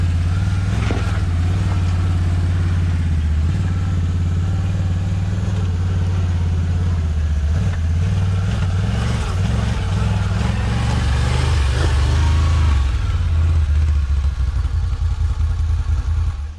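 A 2019 Can-Am Renegade 1000R XXC ATV engine running close and loud with a steady low rumble and revs as the wheels spin briefly, then grip and pull.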